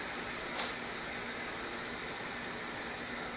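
Chicken sizzles in a Range Mate grill pan, a faint, steady hiss with a single small click near the start.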